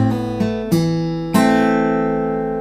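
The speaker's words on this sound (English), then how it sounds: "play strings 2 and 3 together" Acoustic guitar Travis-picking lick: a few plucked notes with strings two and three sounded together, ringing out clearly and sustaining alone.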